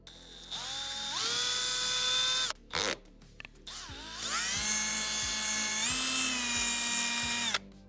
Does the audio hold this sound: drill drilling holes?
yes